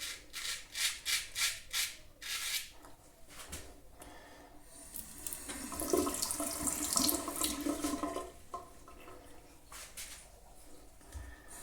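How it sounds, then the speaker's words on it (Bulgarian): A straight razor blade, a Filarmonica Doble Temple, is rinsed under a running tap in a sink, with steady splashing water that swells louder in the middle and then falls back to a softer trickle. "острието измивам с вода само в тази му част и веднага след това се забърсва с кърпата"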